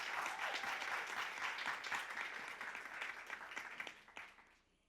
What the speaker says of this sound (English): Clap hands for Mrs. Andy Mampe.